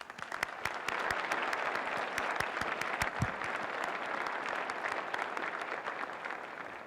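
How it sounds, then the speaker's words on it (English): An audience at the State of the City Address applauds award winners, a dense, steady round of clapping from a sizable crowd that holds for the full stretch without talk. "Let's give our winners one more round of applause."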